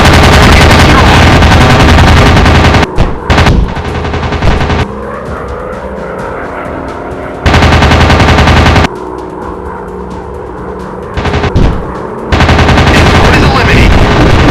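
Fighter-plane machine guns rattle in a WW2 dogfight video game, loud sustained bursts broken by stretches of steady engine drone, all close and dense.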